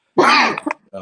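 A single sharp sneeze bursts out loud and close, trailing into a short breathy tail before a brief voice returns at the end.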